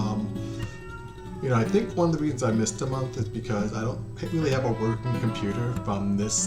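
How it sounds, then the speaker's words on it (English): A pet cat named Hazelnut meows and caterwauls repeatedly in drawn-out, rising calls close by, tangled with someone talking over it indoors. "That's my cat"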